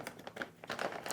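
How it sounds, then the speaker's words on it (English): A plastic bag holding a skeleton admin placard is opened by hand, giving a short burst of soft, close crinkling with no talk. "You go ahead and open up the bag"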